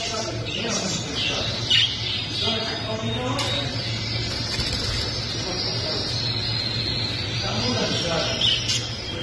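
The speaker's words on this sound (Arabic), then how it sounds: "هذني طيور حب انجليزيات واوروبيات." Pet-shop lovebirds, English and European types, squawk and chirp continuously in a busy chorus, with occasional louder sharp calls over a steady background hum.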